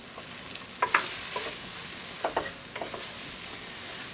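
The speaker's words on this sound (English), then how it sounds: "We're going to add 6 whole cloves of garlic to this." Whole garlic cloves go into a pot with red peppers, landing with a few soft, clinking taps and stirring scrapes over a faint, steady sizzle of hot oil, nearby and fairly quiet, with no one talking.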